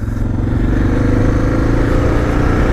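A Suzuki DR650 dual-sport motorcycle, ridden off-road near a muddy ditch, gives a loud, close, steady single-cylinder engine roar with rough low-end chugging throughout.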